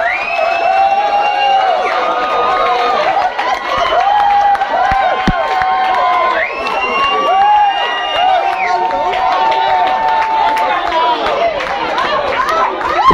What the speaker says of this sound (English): Give that man a round of applause, that was absolutely fantastic.